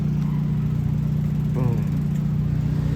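A Mazda RX-7 FD rumbles past on a city street as a low engine drone that swells briefly midway and stays close and fairly loud throughout.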